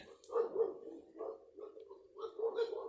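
Pit bulls bark from a neighbor's yard a short distance off, a run of repeated moderate barks in uneven bursts against an otherwise quiet background.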